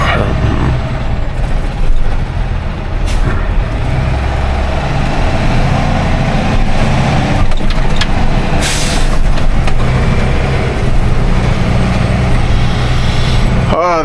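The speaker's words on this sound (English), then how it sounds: "Oh, listen to that engine." A delivery truck's engine runs steadily on a long drive toward Palmdale, a continuous loud rumble with road noise, a brief hiss near the middle and a person talking over it.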